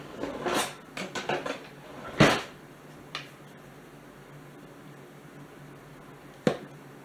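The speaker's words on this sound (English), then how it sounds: "let's mix up our cream cheese here" A spoon working cream cheese and garlic powder together in a bowl, a few clinks and scrapes early on and then sparse knocks, close and fairly quiet.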